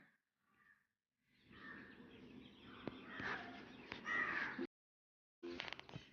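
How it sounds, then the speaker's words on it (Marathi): Crows caw outdoors in short, scattered bursts separated by brief pauses of near silence, fairly close and moderately loud. "पक्षी छान किलबिलाट करत आहेत"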